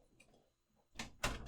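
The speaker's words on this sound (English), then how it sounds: "close the door" A door closes in a room during a podcast: a quiet scuffle, then two loud, close thuds in quick succession.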